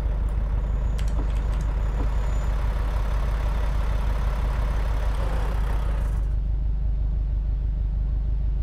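A truck engine idles in American Truck Simulator at a beach at night, a steady low rumble with a faint high whine early on, then the upper hiss cuts away leaving the deep idle alone.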